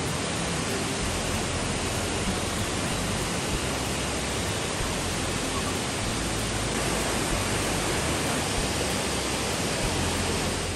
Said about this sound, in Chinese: 飞瀑和斜瀑搭配上溪水撞击石头那天然的重低音